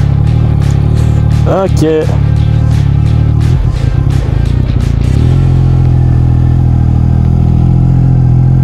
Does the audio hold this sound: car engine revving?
yes